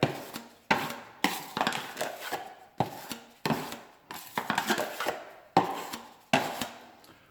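A thick mix being stirred by hand to fill a hole over a steel beam, heard as close, rhythmic scraping and thudding strokes, about a dozen in a steady pattern, with no talk.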